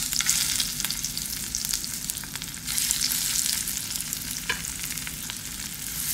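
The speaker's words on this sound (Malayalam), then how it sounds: "നമുക്ക് മീൻ വറക്കാം." Fish frying in coconut oil gives a steady, dense sizzle that holds evenly throughout, close up, with light stirring and no voices.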